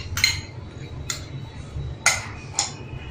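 A spoon mixes jhal muri ingredients in a bowl with a few sharp, separate metallic clinks spaced over a few seconds, close and fairly quiet.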